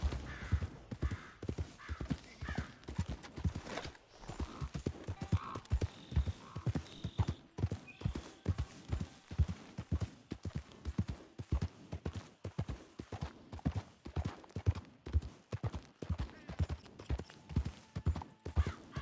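Horse hooves clip-clop steadily and continuously in Red Dead Redemption 2, the even rhythm of a trotting mount carrying close and clear throughout, with an occasional faint whinny in the background.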